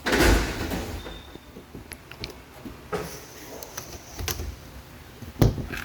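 A compartment door on a 2021 Forest River Wolf Pack RV is handled close up, giving a few sharp clicks and knocks of latch and panel spread across several seconds, with one louder clack near the end.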